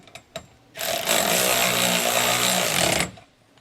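A power tool runs a single sustained burst of about two seconds to tighten a nut on a Lippert JT's Strong Arm stabilizer kit for a fifth-wheel RV jack. It is loud and close, with a few light taps just before it starts.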